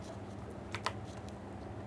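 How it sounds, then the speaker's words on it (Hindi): Computer keyboard keys tapped while entering sizes in Photoshop, a few quick clicks clustered near the middle, faint and close over a low background hum. "अब अपने कीबोर्ड से टैप प्रेस करेंगे टैप प्रेस करने के बाद इसकी हाइट हम डालेंगे फोर पॉइंट फाइव"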